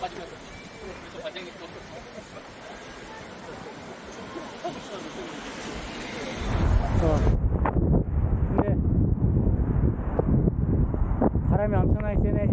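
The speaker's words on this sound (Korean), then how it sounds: "바람이 이렇게 셉니다, 지금" Strong coastal wind roars and buffets the microphone while cycling the Jeju coastal bike path near Pyoseon Beach, a steady rushing gale that swells louder halfway through.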